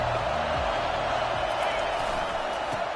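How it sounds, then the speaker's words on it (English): A crowd at a college football game between Michigan and Oklahoma keeps up a broad, steady roar throughout, with a voice briefly audible at the start. "This crowd bringing the energy and noise early."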